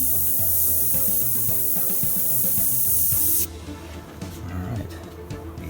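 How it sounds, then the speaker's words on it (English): An airbrush sprays paint onto a 1978 Chevy van, giving a continuous close hiss that drops to a softer, airier spray partway through, with faint handling noises underneath. "Gotta wait for that airbrush to just kick in just enough."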